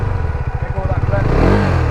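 A motorcycle engine pulses at a low, steady idle, then swells into a rising, louder rev as the rider releases the clutch and pulls away while practicing wheelies.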